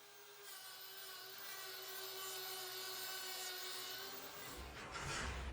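A grinder trims down a cow's oversized lateral hoof claw, giving a steady high whining hum with gritty abrasive rasping that roughens toward the end, close and continuous.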